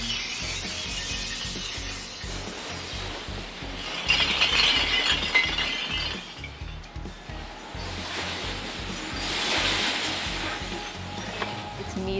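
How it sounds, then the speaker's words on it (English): Glass bottles dumped from a loader into a crushing machine at a recycling site make loud, irregular crashing and shattering surges amid grinding machinery noise, with two heavier bursts of breaking glass. "workers scoop the bottles up with this loader and dump them into a crushing machine"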